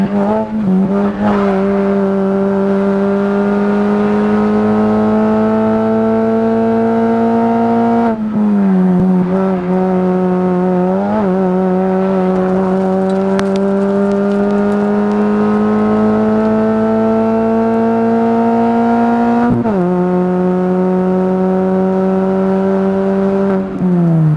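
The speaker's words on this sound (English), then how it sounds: "And he's chasing the 20 car of Kyle Reid" MINI Cooper race cars racing at Knockhill circuit in the Scottish MINI Cooper Cup, loud engines droning and shifting pitch through gears as the cars pass, continuous and close with brief tyre squeal.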